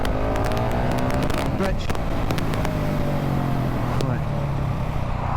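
Supermoto single-cylinder motorcycle, a Ducati Hypermotard 698 Mono or KTM 690 SMC R, pulling hard through the gears, its loud engine climbing in pitch with brief dips at each shift, heard close up beneath wind noise and a rider's short spoken word.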